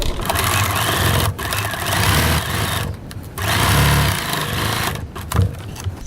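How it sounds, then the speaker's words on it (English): A sewing machine stitches the pocket seam of a fabric bag in fast, whirring bursts, stopping briefly between runs, loud and close. "Now I'm going to stitch my pocket seam at 3/8 of an inch or 1 centimetre."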